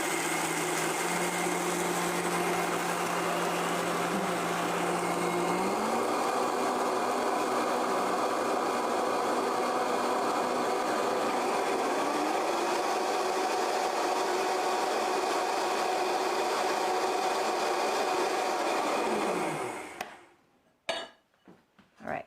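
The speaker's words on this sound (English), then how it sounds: "it's super easy to make flour in your high-speed blender" A high-speed blender grinds oats into flour with a loud, steady whirring roar that shifts pitch a couple of times, then cuts off near the end, followed by a few brief knocks.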